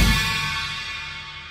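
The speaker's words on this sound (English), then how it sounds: "The china has a very dirty sound." A china cymbal, an older type with a dirty, trashy tone, struck once near the start and left to wash and sustain loudly up close with no voices.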